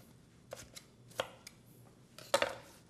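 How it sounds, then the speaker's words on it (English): A knife chops daikon and other vegetables on a cutting board for a raw daikon salad, giving a few sharp, separate cuts, the last one loudest, with quiet gaps between them and no talking. "So I just take a knife and I cut it a little bit, just to kind of break it up."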